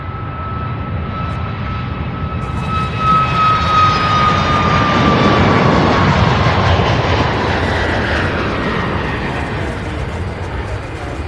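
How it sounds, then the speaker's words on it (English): Southwest jet airliner taking off at Louisville International Airport, a loud, steady engine roar with a high whine, holding strong and close for the whole stretch. "So this Southwest Flight 1506 heading to Midway in Chicago."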